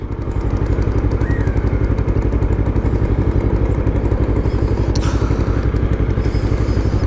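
A modified Yamaha R3 motorcycle with a new engine, flash-tuned ECU, runs at a steady idle, a loud, even, rapid pulsing throb up close with a brief click partway through.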